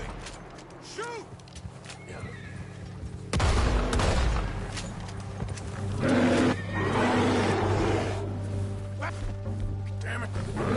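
A bear roars in a video game, with deep growling bursts rising over rumbling action and gunfire-like noise, loud and close, mixed with game effects and voices.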